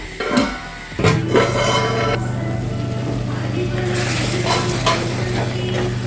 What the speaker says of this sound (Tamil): நல்லா கிண்டி விட்டுக்கணும். இன்னும் கொஞ்சம் தக்காளி கரையட்டும்.